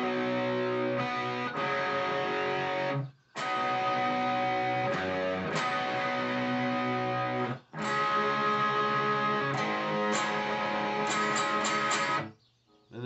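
Electric guitar plays a riff with a driven, gritty tone, repeated in three phrases separated by brief pauses, played alone without talking.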